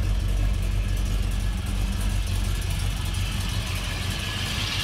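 A Ford Ranchero sits idling on its first start of the year, a steady, close, low engine rumble with a slightly wavering idle and no voices.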